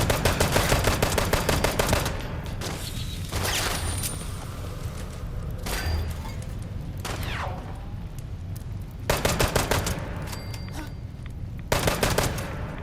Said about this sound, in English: Yeah, so this is a scorch gun.